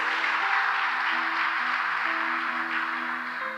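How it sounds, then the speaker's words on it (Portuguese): Congregation applauding at a church congress, a dense steady wash of many hands clapping together, with a sustained musical tone running beneath and no voices. "Diga amém e dê um aplauso ao Senhor"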